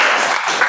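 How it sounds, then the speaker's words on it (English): Audience applause at a meeting: a steady wash of clapping hands from a crowd, sustained and fairly loud throughout the short burst. "So give a big round of applause for yourselves"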